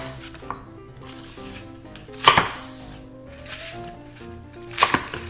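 Green onion being chopped with a knife on a cutting board for Korean spicy chicken stew, two sharp knife strikes standing out over a low background hum, with a few softer knocks.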